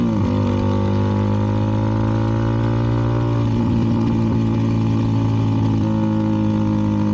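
A CFMoto 300NK motorcycle fitted with a KO aftermarket exhaust drones steadily while riding two-up, with a loud, continuous mid-pitched engine note that shifts slightly in pitch as the throttle changes, with no voices over it.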